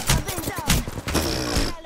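Rapid gunfire bursts in the battle royale video game Apex Legends, on the Olympus map, crackling repeatedly in dense clusters over busy game sound and a voice.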